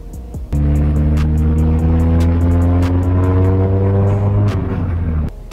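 A Renault Clio engine revs hard under acceleration: after a brief pause a loud, sustained, close engine note holds and climbs for several seconds, then cuts off abruptly near the end.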